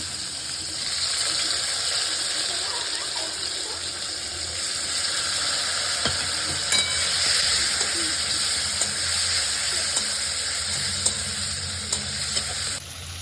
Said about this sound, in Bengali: পেঁয়াজ আর টমেটোটা দিয়ে ভালো করে ভেজে নেব